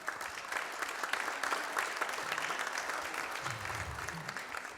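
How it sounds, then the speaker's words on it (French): A crowd at a conference claps steadily and evenly, a warm wash of many hands that carries on without pause. "Donc Jérémy Decroix, je pense que vous pouvez l'applaudir"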